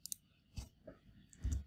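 Sharp isolated clicks of a computer keyboard key and mouse while sketching in SOLIDWORKS CAD software, a few light taps close by with quiet gaps between them.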